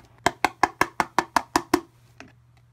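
A container holding iron oxide and rocket motor propellant chemicals shaken by hand: nine sharp, evenly spaced rattling knocks in quick rhythm, close and loud, then one fainter knock after a short pause.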